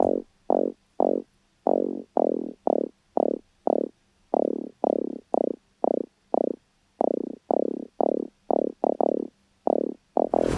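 A deep synth bass plays a steady riff of about two dozen punchy notes, each with a quick downward sweep, loud and alone with no voices.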